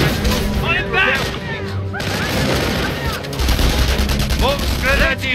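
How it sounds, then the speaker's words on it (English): Dense, continuous gunfire and explosions fill a Company of Heroes battle, rifle and machine gun fire rattling without pause while soldiers shout orders over the din. "We're taking fire!"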